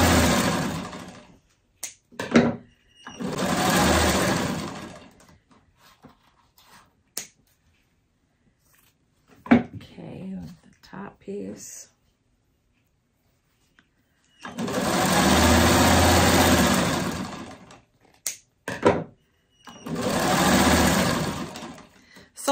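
Sewing machine stitching together freeform quilt pieces, running in four loud, steady bursts of rapid whirring, each a few seconds long, separated by quiet pauses with faint clicks.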